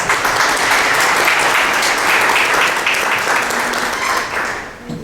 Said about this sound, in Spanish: también recibámoslo con un aplauso